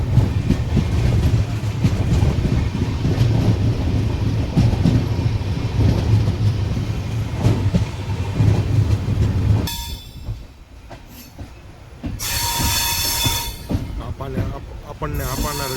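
A train runs on the double line toward Hapa railway station near the yard, a steady loud rumble and clatter that cuts off abruptly into quieter rattling and brief higher squeals.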